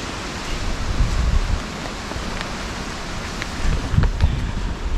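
Wind blows across an open village on a rainy monsoon morning as a steady, rumbling rush against the microphone, swelling in gusts, with no voices.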